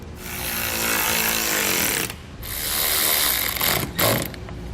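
Power tool tightening fasteners while a Roadmaster base plate is mounted on a 2017 Ford Focus, two loud sustained bursts of whirring and ratcheting with a short pause between them, close and with no talk.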